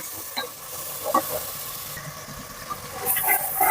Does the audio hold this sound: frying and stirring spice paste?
yes